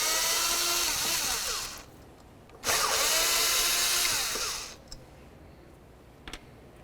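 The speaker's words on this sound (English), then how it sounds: "let's move along to our two Phillips head screws that hold it in place to the air filter box" A power driver whirs loudly in two long sustained bursts while backing out Phillips head screws from the upper air filter box of a 2004-2006 Scion xB, followed by quieter clicks and handling noises.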